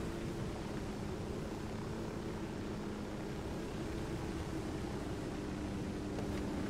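A helicopter in the video game Ghost Recon Wildlands whirs and drones with a steady, broadband rotor and engine noise, fairly quiet and unchanging for several seconds, with no voices.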